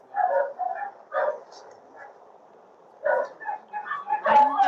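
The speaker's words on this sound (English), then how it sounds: "I hear dog sounds." A dog barks, yips and whimpers in short bursts on a video playing through an online conference livestream. It comes across as a slightly thin relay with pauses between the outbursts, mixed with voices.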